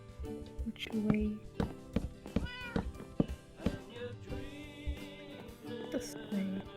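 A cat meows several times in the Minecraft video game, short in-game mews over background game music and footsteps, while players talk.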